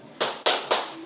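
A group claps the 'tepuk semangat' chant: three sharp, evenly spaced claps in unison, close and loud, with no talking.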